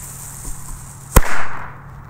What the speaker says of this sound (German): Die Pyrocracker.